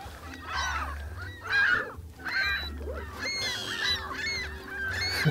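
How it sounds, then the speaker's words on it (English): Agitated gulls call loudly and continuously near the water during a fishing trip, harsh honking cries overlapping in quick succession. "I've never heard such angry seagulls."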